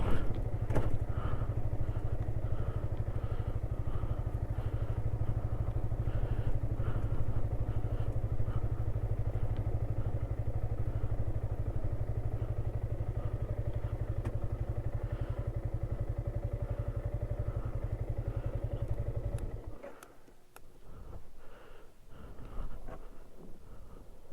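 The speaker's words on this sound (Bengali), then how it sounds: "কিরণ মামুর বাইক নামাইলাম" A motorcycle engine runs steadily at a low rumbling idle for a long stretch at night on a dangerous road in Tindu, then cuts off, leaving scattered clunks and thuds.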